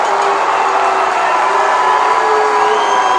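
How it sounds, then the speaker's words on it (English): A baseball crowd at a ballpark lets out a loud, sustained roar of disapproval after a 3-2 pitch is called ball four outside, a steady wash of voices with no single voice standing out. "The crowd didn't like it."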